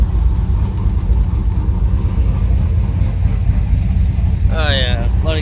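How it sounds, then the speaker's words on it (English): Car freshly fitted with a rebuilt T56 transmission runs its engine steadily, a close, loud low rumble holding even, before a person starts speaking near the end. "let it run for a while because it hasn't been started in a hot minute"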